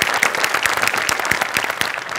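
Loud, sustained audience applause at a Marathi comedy show taping, many hands clapping in a dense, continuous burst with sharp individual claps standing out, no speech over it.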